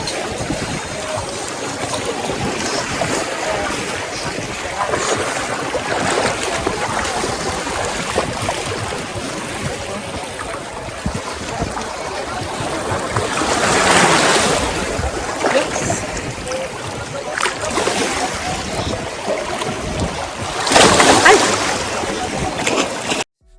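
Strong ocean waves surge and crash near a hillside retreat in Sitio Ibaba, Barangay Pagkilatan, a steady loud roar of surf and wind with bigger breaking swells around the middle and near the end, and no talking.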